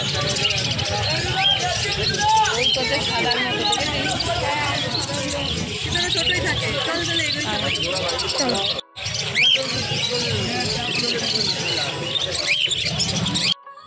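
Busy chorus of many small birds chirping and tweeting continuously, with a murmur of voices in the background.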